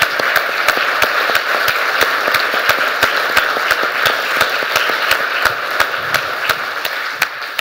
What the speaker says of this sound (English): Can we give this man a round of applause?